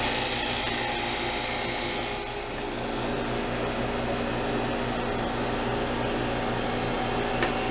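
A home freeze dryer runs again after a restart with a steady mechanical hum and fan-like whir, constant and fairly quiet with no talk.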